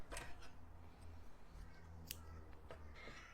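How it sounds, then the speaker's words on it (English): Scissors snip through black yarn during crochet work on an amigurumi tiger, giving a few quiet, sharp close-up clicks against a soft, low background. "Now I like to cut the black yarn"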